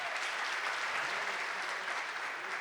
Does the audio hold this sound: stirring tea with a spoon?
no